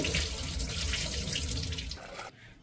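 Lentils are rinsed under a running kitchen tap before going into a pressure cooker: a close, steady rush of water that stops abruptly near the end.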